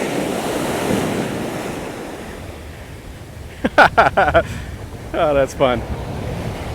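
Surf rolling onto Bamboo Beach on Koh Lanta, Thailand, with strong onshore wind buffeting the microphone in a steady wash, and a person speaking briefly partway through.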